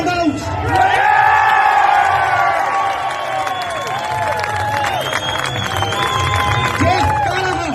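A loud crowd cheers, whoops and claps in a big ovation as names are called out, a thick sustained roar of voices and applause with shouts rising above it throughout.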